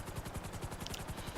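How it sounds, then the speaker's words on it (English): Helicopter in GTA V, a Valkyrie during the Humane Labs raid setup, with a steady rapid rotor chop throbbing low and close, continuous for the whole stretch, plus a brief faint higher whine partway through. "there's no question this helicopter is not really the home for this"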